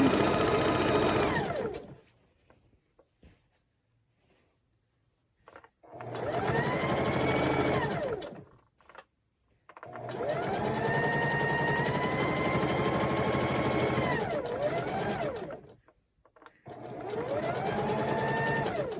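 A sewing machine runs in several loud, steady bursts of stitching as fabric strips are joined for a Christmas table runner, its motor whine rising and falling, with brief quiet pauses between runs.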